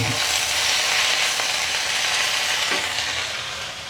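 Pechay drops into a pan of frying garlic and onion, setting off a loud, steady close-up sizzle that hisses continuously with faint stirring scrapes.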